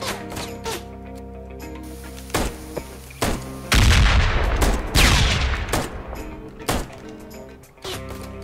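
Repeated gunshots from the video game Ride to Hell: Retribution ring out in sharp, loud bursts at an irregular pace, with a heavier volley in the middle, all over a steady game music bed.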